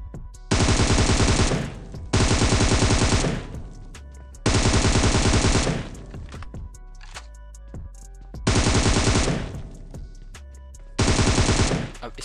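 Gunfire in the Free Fire battle royale game during a solo match: five long, loud bursts of rapid automatic fire separated by short pauses, with no talk.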